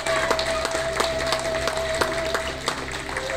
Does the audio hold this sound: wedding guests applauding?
yes